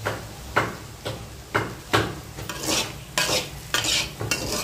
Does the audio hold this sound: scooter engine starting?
no